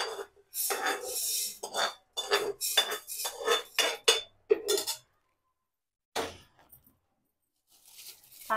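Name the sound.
roasting urad dal in a pan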